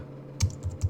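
A few crisp keystrokes on a Mac computer keyboard while a terminal command is entered, close and clear, in three quick bursts with short gaps between them.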